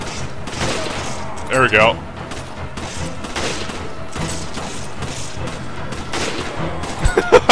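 Gunfire in Resident Evil 5 co-op play, scattered bursts of shots and booms spread through the clip, with a few sharp close hits near the end and a player speaking briefly over the action.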